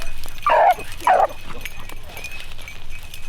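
Hunting dogs bark twice in quick succession, close and loud, over a faint low rumble, followed by quieter noises.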